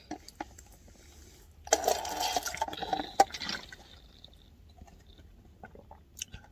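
Water pours briefly from a bottle into a cup indoors in a soft, bubbling trickle of a few seconds, with small knocks before and after and no talking.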